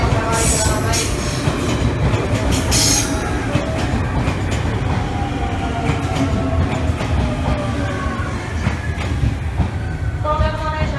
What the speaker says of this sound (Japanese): 3番乗り場、列車が入ります。